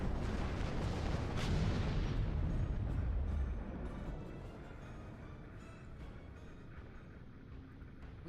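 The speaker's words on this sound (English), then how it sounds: "That was quite an explosion." Explosion in the Star Trek Online space game: a loud, low rumbling blast for about three seconds that fades into a quieter sustained roar.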